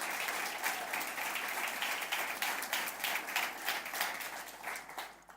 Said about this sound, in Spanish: Dale un buen aplauso al Señor en eso